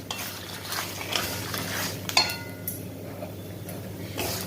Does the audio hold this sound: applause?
no